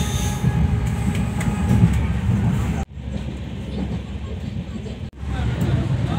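Onboard a New Karimganj to Agartala train travelling at night: a loud, continuous carriage rumble with rhythmic rail clatter, cut by two abrupt drops in level, with faint voices in the background.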